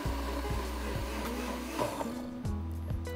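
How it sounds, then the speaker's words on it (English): Smeg blender blending honey pineapple chunks, a loud motor whir that cycles in repeated rising surges, changing tone near the end as the chunks break down. "cut it into chunks, and blend it with our Smeg blender"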